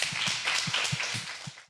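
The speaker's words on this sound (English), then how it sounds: "Let's welcome up the second founder with a round of applause." Audience applause at a live startup pitch event in New York, a dense, steady wash of many hands clapping that carries through and tails off near the end, with no voices over it.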